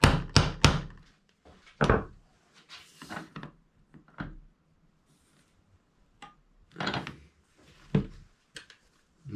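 A centre punch is struck several times on a Spro Freestyle Xtender fishing net handle: a cluster of sharp, close taps, then a few more isolated knocks and small handling clicks between quiet gaps.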